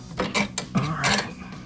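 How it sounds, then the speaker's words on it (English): A T-bolt hose clamp on a cold air intake on a RAM 2500 is cranked tighter, giving a few close mechanical clicks and creaks in quick succession. "I'll throw a couple more cranks on it"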